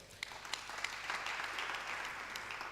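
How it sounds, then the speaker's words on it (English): A seminar audience at an Anglican professionals' fellowship in Lagos claps, faint and somewhat distant, with a few sharper individual claps standing out at the start before the applause settles into an even patter. "Please, a round of applause for them"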